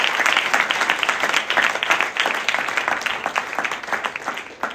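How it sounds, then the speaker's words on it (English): Audience applause for a member of Congress at a Capitol Hill Armenian Genocide commemoration, a dense, steady round of clapping from a crowd that holds strong throughout and thins slightly toward the end. "That deserves a round of applause."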